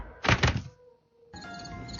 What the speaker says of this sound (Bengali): ধপাস করে পড়ে অজ্ঞান হয়ে গেল